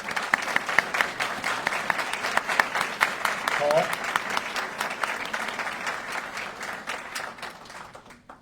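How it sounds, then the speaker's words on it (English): Audience at a military basic qualification course graduation ceremony applauds veterans standing in the crowd, steady dense clapping throughout with a voice speaking briefly over it. "Please give these people a round of applause"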